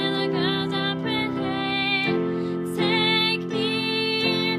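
Sustained piano chords change every second or so, ringing steadily and fairly loud, with no voices over them.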